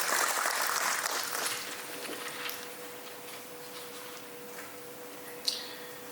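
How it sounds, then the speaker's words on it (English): Conference audience applause at the opening morning session of a TORG and KFHR conference. A broad clapping wash is already dying away at the start, trailing off within a couple of seconds into a quiet room with a low steady hum and one small knock. "Please, let's just give applause to Dr. Kara, who is co-chairing with me."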